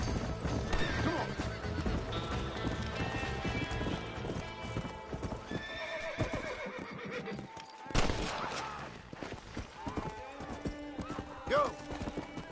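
Horse in the Red Dead Redemption video game, steady clip-clop hoofbeats at a gallop with loud neighs and whinnies, occasional distant gunshots, and a man urging the horse on over it.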